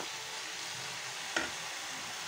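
Radish cooking with kasundi hisses quietly in an uncovered pan, a faint steady sizzle broken by one quick scrape of a spatula stirring it, with no voices.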